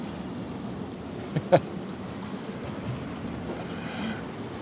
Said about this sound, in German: Ein Gruß von der Welle.